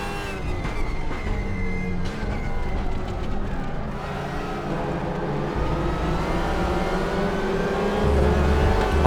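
A Volkswagen TCR race car in the RaceRoom racing game roars steadily at high revs, with the engine note rising and falling through gear changes in one continuous, loud drone.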